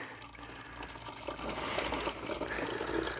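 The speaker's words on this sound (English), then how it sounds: "Anyway, water." Water is poured, a continuous splashing and trickling of liquid that builds slightly louder over a few seconds, close by with no talking.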